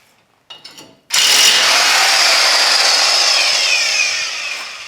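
Power tool, likely an impact wrench, spins a 19 mm nut off a U-bolt holding a Toyota Tacoma axle, with a few short clicks and then one sustained loud whirring run up close that tapers slightly at the end.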